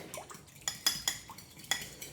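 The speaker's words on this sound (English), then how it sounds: "Gonna whisk this up or use a fork just to mix this up." A fork clinks and taps against a bowl in a few quick, uneven strokes, close and crisp, with soft stirring between the hits, whisking a vinaigrette.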